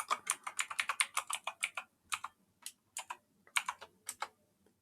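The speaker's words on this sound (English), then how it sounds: "Gonna try to type the right password on the first try." Keys clatter on a computer keyboard as a password is entered during a Linux root login, quick bursts of clicks with brief pauses, close and fairly quiet, no talking.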